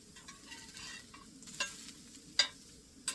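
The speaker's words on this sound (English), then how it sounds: "Give that a stir once in a while." Food stirred in a pot on a camp stove at a campsite, a quiet scraping swish with occasional louder clinks and scrapes, soft and close, with no talking.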